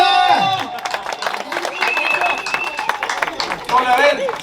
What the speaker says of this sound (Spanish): Sale los aplausos entonces.